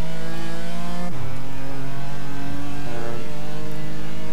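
A BMW M4 GT4 with a straight-six engine revs loudly and steadily in the iRacing simulator, its pitch dropping sharply at a gear change and climbing again in a smooth, strong drone with no talk.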